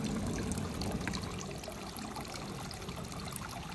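Steady water trickling and splashing from a garden fountain, continuous and close with no voices.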